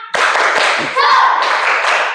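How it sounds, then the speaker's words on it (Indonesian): A class of children in an Indonesian classroom performs the rhythmic 'tepuk semangat' clapping chant, loud and close, with group clapping in bursts and voices chanting along. "supaya kita lebih semangat lagi, tepuk semangat"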